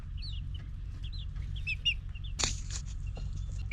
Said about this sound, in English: I bet he's a rooster.